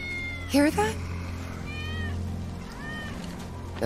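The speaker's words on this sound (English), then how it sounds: "That's Wedge's cat." A cat meows in Final Fantasy VII Remake, one loud close meow followed by two softer, longer meows, set over a low steady in-game ambient hum.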